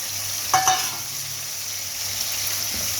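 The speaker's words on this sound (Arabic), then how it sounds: "نحمر البصله ده" Onion sizzling in a pan of hot oil with spices for Egyptian fisherman-style rice, a steady close frying hiss with a brief stir or clink of the pan near the start and no talking.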